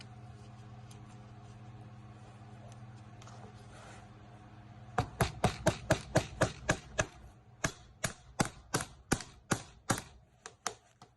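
A series of sharp, evenly spaced hammer strikes drives a nail into RV slide edge trim, about twenty blows in quick rhythm with a short pause midway, close and loud.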